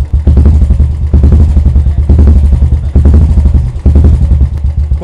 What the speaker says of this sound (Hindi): कुछ ऐसा सा साउंड है जो थ्रॉटल का है और वो भी बहुत ज़्यादा डीप बेस है इसके अंदर।